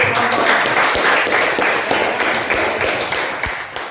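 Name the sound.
audience applause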